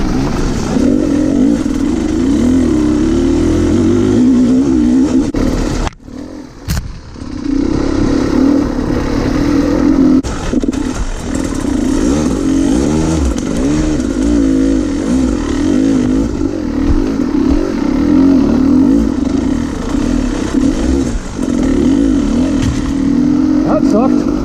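Dirt bike engines rev and roar almost continuously, loud and close, with a brief cut around the middle before the buzzing picks back up, with people talking at times over the engine noise.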